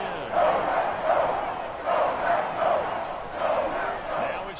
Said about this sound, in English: Crowd getting in a bit already